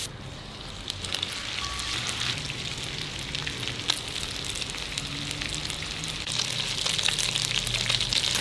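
Meatballs of parsley, egg, breadcrumbs and parmesan fry in melted butter in a pan, giving a steady close sizzle and crackle with small pops throughout, growing slightly louder toward the end.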